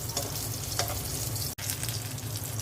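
Dry red chillies fry in hot oil in a home kitchen, giving a steady, close crackling sizzle that cuts out for a split second midway, then resumes unchanged with no voices.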